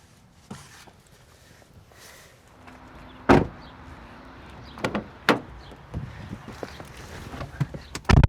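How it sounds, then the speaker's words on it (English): A car door swings shut with a solid thud inside a quiet cabin, followed by several more scattered knocks and a final burst of clunks near the end; no one speaks. "that door closed."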